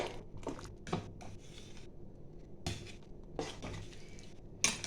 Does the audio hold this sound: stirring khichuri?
yes